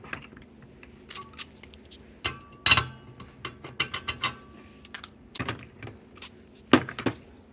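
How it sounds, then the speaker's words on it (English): Metal sockets and tools clinking and rattling while a socket wrench is readied to remove the vacuum release valve of a 1997 Pasquini Livia 90 espresso machine, a scattered series of sharp close clicks and jangles. "the vacuum release valve is a very hard part to remove, so we're gonna have to use a socket"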